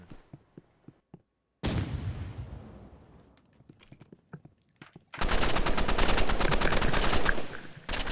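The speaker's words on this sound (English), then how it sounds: "your assault rifle. I was wondering how you shot me 3 times in the head" Assault rifle fire in the Roblox shooter Rivals: scattered sharp single shots early, then a booming burst, and finally a long, loud sustained automatic volley of rapid shots.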